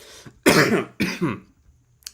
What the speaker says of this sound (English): Unprofessional of me to cough on mic.